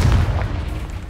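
A Confringo fire spell blast in the Hogwarts Legacy video game, one short loud booming burst that fades quickly.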